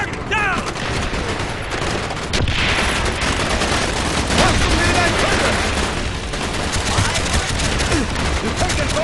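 Dense gunfire from a realistic first-person shooter video game, with rapid overlapping shots, bursts and booms forming a continuous loud battle din, while voices shout over it.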